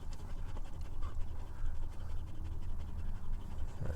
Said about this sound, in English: You can see she's panting heavy.